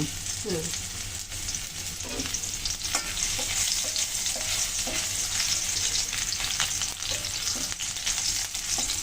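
Whole cumin, dried red chilies, bay leaf and green chilies fry in hot oil, a dense continuous sizzle heard up close, with occasional light stirring scrapes and clicks.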